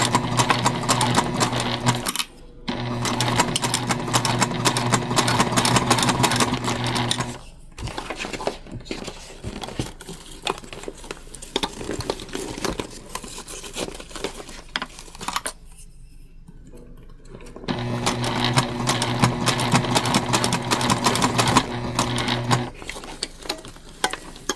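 A sewing machine runs a long basting stitch through a bag project in fast steady bursts, pausing briefly between runs, close and fairly loud with no talk.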